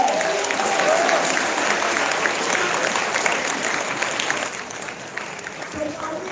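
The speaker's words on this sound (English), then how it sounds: "give yourself a round of applause" A school assembly crowd gives a loud, sustained round of dense clapping that fills the room and slowly tapers off.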